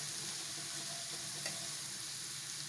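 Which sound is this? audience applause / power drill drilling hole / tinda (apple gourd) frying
tinda (apple gourd) frying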